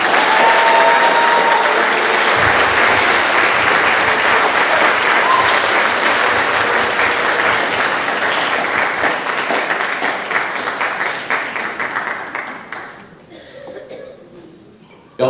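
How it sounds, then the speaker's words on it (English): A band banquet audience claps loudly and steadily in an indoor hall, the applause holding strong for about ten seconds before thinning out and fading near the end. "let's give him another round of applause"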